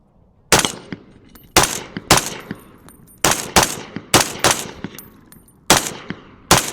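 A .308 rifle fires without a suppressor at night, giving about nine loud, sharp cracks, each followed by a short decaying echo, spaced unevenly over several seconds and heard close.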